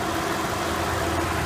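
A 2015 Nissan Altima S engine idles steadily with a low, even hum and no speech.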